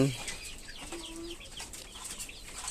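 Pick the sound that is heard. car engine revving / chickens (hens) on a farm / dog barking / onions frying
chickens (hens) on a farm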